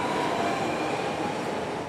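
A Sydney Metro train running at speed, a steady loud rumble of wheels on rail with rushing carriage noise that holds constant and close throughout, with no voices.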